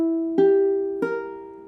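A diminished triad with its flattened fifth rings out on a piano, one sustained note and then two struck chords that decay slowly, clear and close with no talking.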